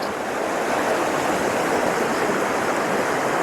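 Creek water rushes steadily along the Ouachita Trail, a loud, continuous broadband flow with no talking over it.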